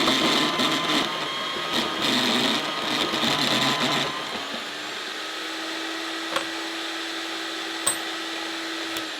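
Hardox steel plate is cut with a harsh grinding, rasping machine noise that runs for about four seconds, then drops to a steady motor hum with a couple of sharp clicks.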